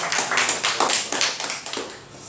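A church congregation applauds at a Sunday morning service, with a quick series of sharp, distinct claps that thin out and fade after about two seconds.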